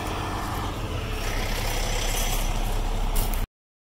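A truck pulls away in first gear on a rainy road, its engine a steady low drone with faint hiss and a brief higher burst near the end before it cuts off abruptly.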